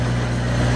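A brief stretch of steady engine rumble from a Bobcat skid steer idling nearby, constant and unbroken, with no talking.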